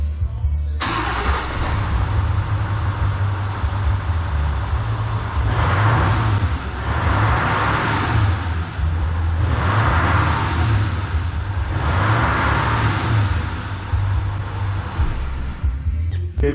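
A 2016 Nissan Titan 5.0 Cummins diesel pickup engine idles loudly and steadily up close through its stock exhaust, with a deep rumbling exhaust and several swelling pulses as the throttle is lightly revved.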